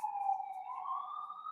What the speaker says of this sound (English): third ambulance in a row, right?